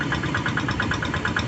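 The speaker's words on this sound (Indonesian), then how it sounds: "Lihat hand traktor ya, traktor tangan sedang digunakan oleh para pembajak untuk meratakan area persawahan" A hand tractor's engine runs steadily as it levels a rice field in Galang, Deli Serdang, North Sumatra. The chugging pulse is loud and close and holds a fast, even rhythm without voices.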